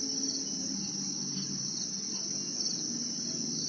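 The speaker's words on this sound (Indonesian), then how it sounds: "ini jangkrik indukan petelur" Egg-laying breeder crickets at a cricket farm in Lepang village, Klungkung, Bali, chirp in a steady, dense, continuous high trill that stays at an even level throughout, with no voices.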